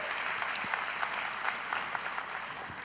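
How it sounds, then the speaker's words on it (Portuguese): A church congregation applauds the Lord during a Portuguese-language sermon, with steady, dense clapping from a crowd that carries on evenly throughout. "Quem pode dar um aplauso ao Senhor Jesus Cristo"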